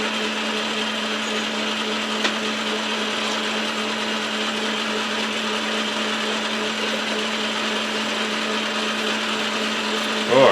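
Metal lathe running steadily while parting off a workpiece, a continuous mechanical hum with a faint grinding cut, ending in a brief louder knock.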